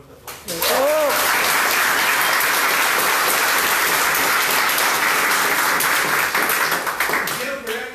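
A large audience at a motivational talk breaks into loud, sustained applause that swells quickly and holds steady for several seconds, with a voice audible briefly at the start and end.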